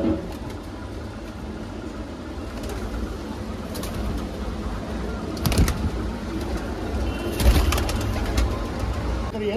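Punjabi and Madrasi pigeons kept for sale coo in a low, ongoing murmur near a busy spot, with a couple of sharp clattering knocks over the background hum.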